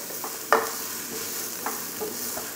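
Chopped onion sautéing in a pan for menudo, a soft sizzle under a few spatula scrapes and taps, close and brief.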